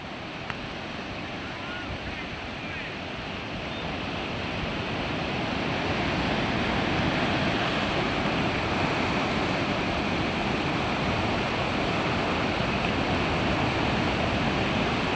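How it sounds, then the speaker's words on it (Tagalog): Large ocean surf where surfers ride rolls in as a broad, continuous roar that builds steadily louder, with wind buffeting the microphone. "ang laki ng alon, no?"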